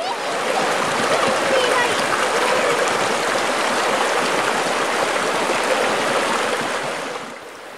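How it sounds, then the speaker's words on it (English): River Nairn in its middle course, water swirling and rushing around stones and boulders, a steady loud close-up burble and splash that holds for several seconds before easing slightly at the end. "there are places where the water swirls around the stones and boulders."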